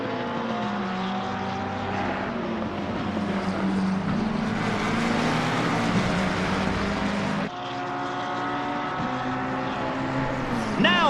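Race cars roaring at Monza in Assetto Corsa Competizione, including a Z06, a steady loud engine drone with layered harmonics that dips briefly and resumes, under commentary-like voice.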